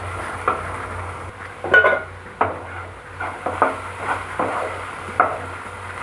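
Masala for potato rice being stirred and sautéed in a pan over a medium gas flame, heard as scattered clinks and scrapes of a utensil against metal over a low steady hum.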